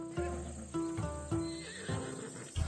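Horse in a PlayStation 4 video game neighing and snorting in several loud, close bursts, each followed by shorter whinnies, with faint clip-clop of hooves and no talking.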